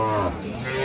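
A dairy cow lows once at a rural cattle market, the call loud and close with a clear harmonic tone that fades into the general murmur of the busy livestock yard.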